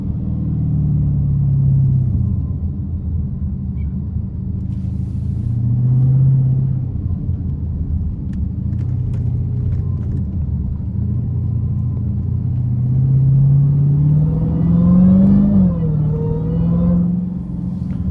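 Supercharged Dodge Hellcat driving through traffic, a steady loud engine drone and rumble running throughout, with the revs rising and falling in several swells and a higher whine climbing near the end.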